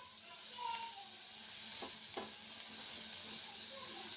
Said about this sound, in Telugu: okay cabbage and green chilli ఇలా వేసేసుకొని కొంచెం టోస్ట్ అయితే చేసేసుకోండి